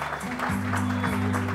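Guests at a quinceañera party applaud the birthday girl's parents, a steady wash of clapping running beneath loud sustained party music.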